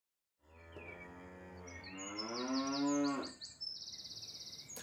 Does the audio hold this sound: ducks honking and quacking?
no